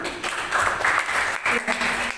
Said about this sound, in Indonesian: Kita berikan tepuk tangan untuk Mas Abel